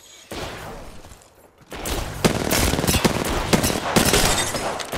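Peacekeeper shotgun fire in Apex Legends: a quieter opening gives way to loud, dense firing with sharp repeated blasts and impacts over the last three seconds.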